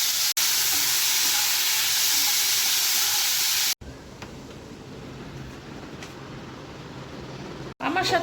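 Potatoes and onions fry with egg in a hot pan, giving a loud, continuous sizzle and hiss that stops abruptly, then returns as a softer, steady crackle with faint background sounds.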